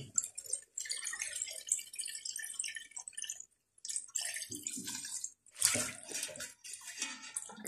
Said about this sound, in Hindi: अब हम पानी डालेंगे।